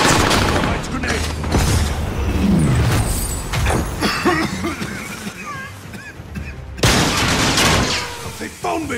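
A stun grenade bursts during a Call of Duty: Modern Warfare match, heard as heavy booms and sharp blasts mixed with gunfire and game noise, with a second loud burst near the end.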